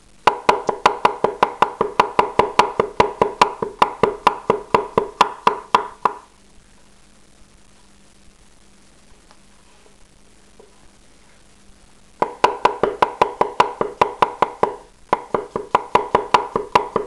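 A forged stainless Catcheside Nakiri prototype with hollow geometry slices potato thinly on a board, giving quick, even knife taps in a steady run, then a pause, then two more short bursts of rapid cuts.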